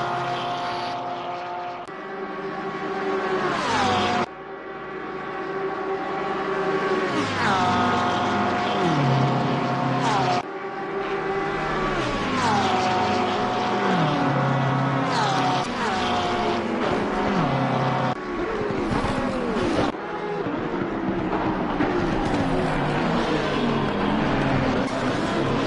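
Porsche and Audi GT race cars scream past in Assetto Corsa Competizione during a multiclass race at the Nürburgring Nordschleife, loud continuous engine roar with repeated gear shifts and rising and falling pitch as cars pass.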